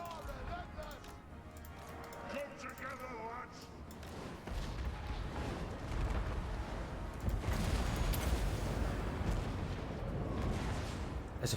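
Cannon artillery fire from a Total War: Warhammer II battle, with heavy booming blasts and rumbling gunfire building through the clip amid dense battle noise, while someone talks over it.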